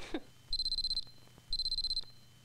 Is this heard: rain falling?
no